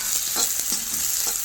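Cashews frying in oil with onions for an egg gravy, giving a steady close hiss of sizzle with a few soft stirring scrapes, no voices.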